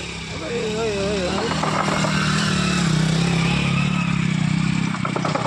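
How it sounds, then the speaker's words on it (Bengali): Vehicles and motorbikes board a boat, with a rumbling engine drone and clattering movement filling the scene while people talk loudly over it. "দেখো গাড়িগুলো উঠে যাচ্ছে"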